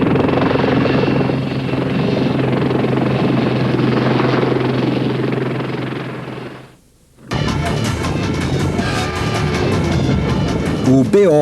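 A BO-105 anti-tank helicopter flies past with a loud, steady rotor and engine roar for about seven seconds. The roar then cuts off abruptly and gives way to a different busy, noisy passage.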